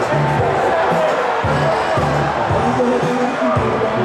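Crowd at a college hockey game between SDSU and Oregon, a loud, sustained roar of voices and jeers that fills the arena with constant babble and no break.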